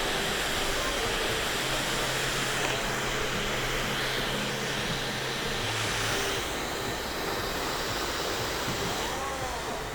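A hair dryer blows steadily on straight hair at a barbershop, a loud continuous whooshing roar with no breaks.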